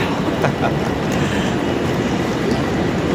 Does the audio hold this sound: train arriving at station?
yes